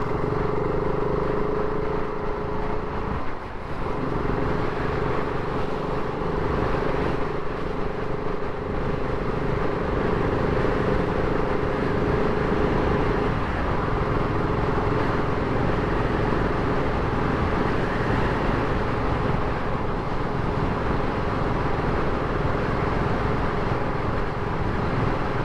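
A BSA Goldstar 650 motorcycle rides along a country road with a steady, loud engine drone and heavy wind rush throughout, no voices.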